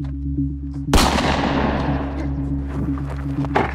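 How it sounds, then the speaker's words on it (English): A single gunshot cracks out near a hotel at night, one sharp loud report followed by a long decaying rumble over a low steady hum. "That's a gunshot."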